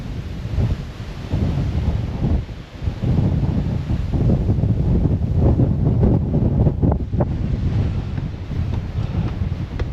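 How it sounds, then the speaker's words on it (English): Strong wind blowing high up near Dumbarton castle, buffeting the microphone in a loud, continuous roar with gusty swells and brief lulls throughout, no voices. "Wind is picking up tremendously because we're quite high up."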